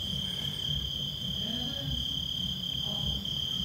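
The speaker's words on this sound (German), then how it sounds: "Hörst du grillen?" Crickets chirp in a steady, continuous high trill that stays even and fairly loud throughout, with no voices.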